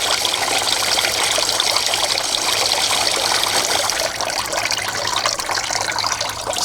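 Water pours steadily out of an outboard motor during a flush, a loud, continuous close-up gush and splatter with no break and no voices.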